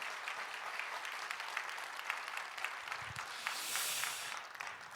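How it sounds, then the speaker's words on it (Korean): A church congregation applauds at the close of a Sunday worship service, a steady, fairly faint wash of clapping from many hands that lasts the whole stretch, with brief murmurs of voices mixed in. "우리 큰 박수로 잘 보내주시죠"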